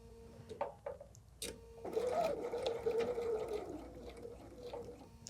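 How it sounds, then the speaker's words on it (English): A sewing machine stitches a backstitch while binding a quilted diamond table topper. After a few soft clicks and handling noises, a steady, close, quiet whirring runs unbroken to the end. "We're going to start sewing, and now I'm going to do a back stitch."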